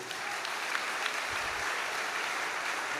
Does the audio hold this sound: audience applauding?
yes